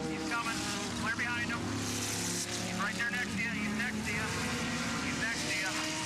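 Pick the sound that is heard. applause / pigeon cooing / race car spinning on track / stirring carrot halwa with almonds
race car spinning on track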